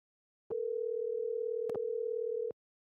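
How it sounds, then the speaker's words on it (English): A telephone line gives a single steady dial tone lasting about two seconds, clean and isolated, with faint clicks at its start, middle and end while a call is being placed. "Let's see if we can get Revis back up on the phone"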